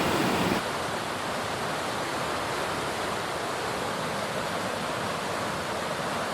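Powerful Colorado River rapids rushing close by, a loud, continuous broadband roar of churning whitewater that barely varies, with a brief louder burst at the very start.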